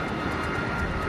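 An A-10 Warthog attack jet flying, a steady broadband engine roar with no breaks, filling the whole moment without voices.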